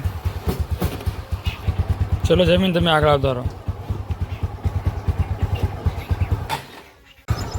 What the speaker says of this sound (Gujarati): બાઇક થઈ ગયું છે ચાલુ